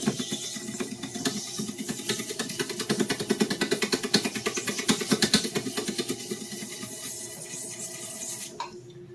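Hand sanding of a broken ferrule with 80-grit sandpaper, a close rapid back-and-forth scratching rasp in steady rhythmic strokes that stops abruptly near the end.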